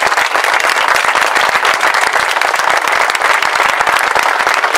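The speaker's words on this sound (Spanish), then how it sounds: "y pido un fuerte aplauso por Diana." Loud, dense applause from a crowd at a street protest, steady sustained clapping throughout with no pauses.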